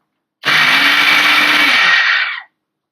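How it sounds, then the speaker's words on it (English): A blender whirs loudly and steadily for about two seconds, starting abruptly and cutting off cleanly, with no other sounds around it. "To finish, you will require a blender."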